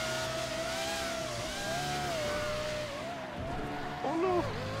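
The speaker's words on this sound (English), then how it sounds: "This car sounds so good." A car engine in GTA 5 revs and accelerates steadily with rising and falling pitch, loud and close, ending in a short tire squeal, with people talking over it.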